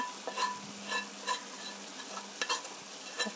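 Fried chunjang black bean paste is stir-fried in a pan, with soft sizzling under repeated rhythmic scrapes and taps of a spatula, fairly quiet and close.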